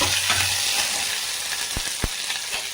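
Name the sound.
frying dried red chilies, green chilies and garlic in oil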